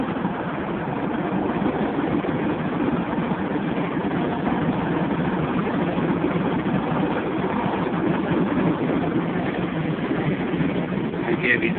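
A Ford Sport Trac's engine drones steadily under load climbing a hill at around 50 to 60 mph, a continuous cabin-heard roar with road noise and no talking.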